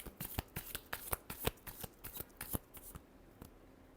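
Tarot cards are shuffled close up, a quick series of crisp riffling flicks and taps that slows and fades toward the end.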